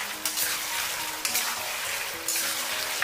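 Braised winter melon stir-fried in a wok, a steady close sizzle of frying with scraping stir strokes, swelling in brighter bursts as the pieces are tossed, no voices.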